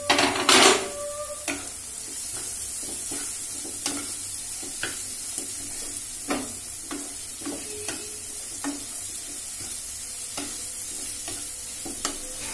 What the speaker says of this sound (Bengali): আমি ক্যাপসিকাম কুচি যেটা কাটা ছিল সেটা দিয়ে দিচ্ছি